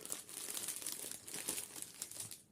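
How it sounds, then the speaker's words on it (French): A packaged item from a craft-supply order is unwrapped, and its plastic wrapping crinkles and rustles continuously up close for a couple of seconds, fairly quiet, with no talking. "Je vais vous déballer celui-là pour vous faire voir."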